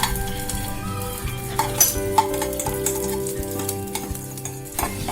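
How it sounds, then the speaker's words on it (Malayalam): Cashew pieces and raisins fry in hot ghee with a steady close sizzle, broken by a few sharp metallic clinks and scraping stirs of a spoon against the pan. "ഇതിലേക്ക് കുറച്ച് അണ്ടിപ്പരിപ്പ് കഷ്ണങ്ങളാക്കിയതും കുറച്ച് ഉണക്കമുന്തിരിയും കൂടെ ഇട്ട് കൊടുക്കാം."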